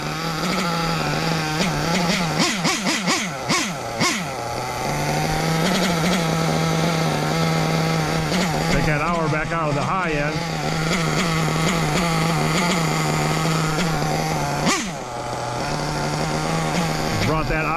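Carbureted engine idling steadily and loudly up close as the idle mixture is adjusted, its pitch and roughness shifting with each tweak, with a brief dip near the end; someone talks over it.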